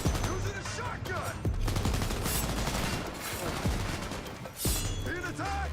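Cyberpunk 2077 shotgun blasts ring out as repeated heavy bangs amid ongoing gunfire, moderately loud, with voices talking between shots.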